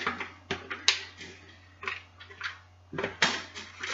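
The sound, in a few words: mixture dumped into a pan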